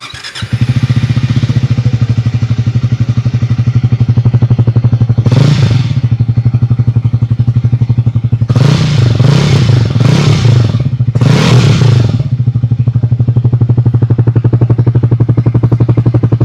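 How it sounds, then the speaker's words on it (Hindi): Exhaust of a 2025 Triumph Speed T4 or Speed 400 MY25 single-cylinder roadster idling with a steady, loud, close thump, sharply revved in one blip and then a quick pair of blips before settling back to idle. "मैं आपको दोनों के एग्जॉस्ट सुना देता हूँ।"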